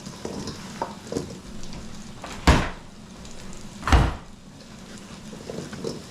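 Kitchen drawers are pulled open during cooking, giving two sharp, sliding thumps a second and a half apart over a low ambient hum and soft sizzling.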